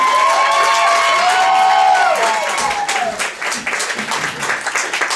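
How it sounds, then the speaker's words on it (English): A comedy club audience bursts into loud, dense applause with cheers as a stand-up comedian is introduced, sustained for several seconds and tapering slightly near the end, with a voice speaking over the start. "Big round of applause for Misha Whalen"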